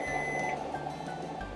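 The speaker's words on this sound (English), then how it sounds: "So as you can tell from that beep," An RV convection oven gives a steady electronic beep on reaching preheat temperature, a sustained tone heard up close over a low background hum.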